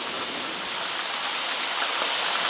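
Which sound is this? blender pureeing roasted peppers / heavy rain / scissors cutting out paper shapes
heavy rain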